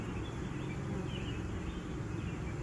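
A honeybee swarm settling into a hive box makes a dense, continuous buzzing drone, close and steady with no pauses and no talk.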